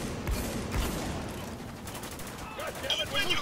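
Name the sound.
heavy gunfire in the Spec Ops: The Line video game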